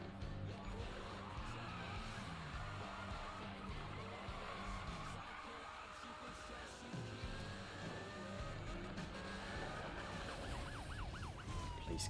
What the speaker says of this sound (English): Police car again.